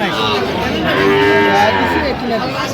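A Sahiwal bull at a cattle market gives one long, loud, close moo that wavers in pitch, with faint crowd chatter underneath.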